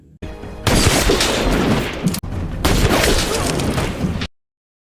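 Rapid gunfire in an action film sniper scene: a dense, loud barrage of shots and bursts that runs for about four seconds, broken by one brief cut, then ends abruptly in silence.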